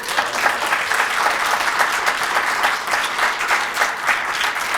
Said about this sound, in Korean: 진심에서 우러나오는 큰 박수를 보내주셨습니다